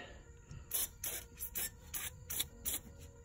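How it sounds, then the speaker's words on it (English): Several short hissing bursts of lubricant from an aerosol spray can around the fuel filler neck grommet of a 2000 Saleen Mustang, each lasting a fraction of a second, repeated in an uneven rhythm at close range. "So I'm spraying all around"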